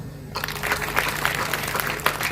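Audience clapping at a Hindi religious discourse by a saint, sustained and fairly dense after a donation is announced, starting abruptly and continuing steadily with a low hum beneath.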